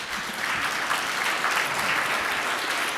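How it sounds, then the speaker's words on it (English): Sustained applause from a conference audience at a judicial gathering, a steady dense wash of clapping filling the hall throughout, with no voices rising above it. "So thank you all for clapping for this grim news."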